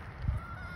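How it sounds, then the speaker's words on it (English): One short honking squawk from a fowl, fairly close, over a faint steady background hiss. "First, I'd like you to meet my lovely chickens."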